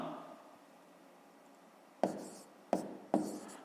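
Pen marks on paper while working a sixth-grade math exercise: a soft scratchy hush, then three sharp taps or strokes in quick succession near the end, faint and close, with no talk.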